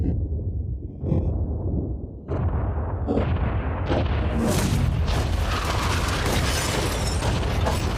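A yacht blown up in a staged demolition: successive heavy booms pile into a sustained roaring blast with crackling debris, loud and close throughout.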